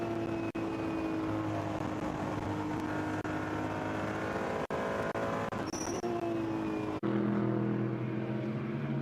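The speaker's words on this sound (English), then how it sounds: "Is there anything sweeter than the sound of a Ferrari 296 on board?" Ferrari 296 race car engine at the Shanghai 8 Hours, heard on board: a loud, steady engine drone with shifting harmonics and sharp gearshift breaks, the pitch climbing and dropping as the car accelerates and changes gear.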